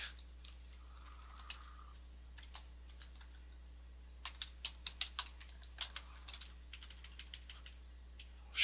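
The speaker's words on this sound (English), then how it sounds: "And then you would type some stuff." Computer keyboard typing while working in WordPress, faint scattered keystrokes at first, then a quicker burst of clicky taps, heard alone at close range.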